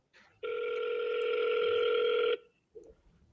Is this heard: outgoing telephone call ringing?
yes